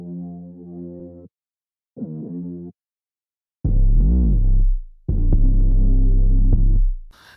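Layered bass synth, deep throbbing notes in separate bursts, two short lower hits followed by longer, louder swelling tones with a wobbling, growling movement, alone without talk.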